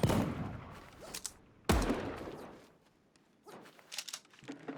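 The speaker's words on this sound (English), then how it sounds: "We have a shotgun, we can one-tap him." Shotgun blasts in Super Animal Royale, two sharp loud booms about a second and a half apart, each trailing off, followed by fainter scattered shots and impacts.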